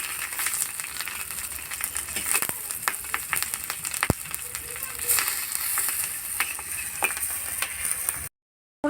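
Katla fish pieces fry in hot mustard oil, giving a steady close sizzle and crackle with scattered sharp pops and spits, carrying on without speech before a brief drop to silence near the end.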